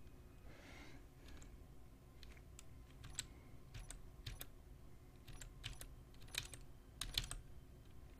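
Keys clatter on a computer keyboard in scattered bursts of quick taps, close and moderately quiet over a soft background hum, with a breath near the start.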